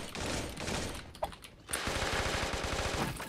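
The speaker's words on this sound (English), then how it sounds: "Oh, shoot. I'm getting shot at." Rapid automatic gunfire in the video game Fortnite, dense loud bursts that drop off briefly before a steady rattling volley resumes, with no talking.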